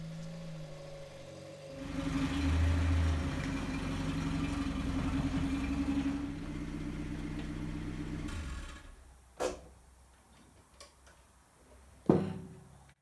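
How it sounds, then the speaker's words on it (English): A Land Rover engine runs steadily for several seconds as the vehicle is driven out from under its lifted rear bodywork tub in a workshop, then falls away, leaving a few sharp clanks close by. "Now I can just drive the Land Rover out from underneath it"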